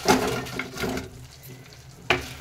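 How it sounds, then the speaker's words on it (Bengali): Fried cauliflower pieces tipped into chilli sauce in a pan and stirred for dry chilli gobhi, giving a soft sizzle with scraping stirs, a near clatter at the start and another sharp knock near the end. "সসটা মিশানো হয়ে গেছে, এবার দিয়ে দেবো ভেজে রাখা ফুলকপিগুলো।"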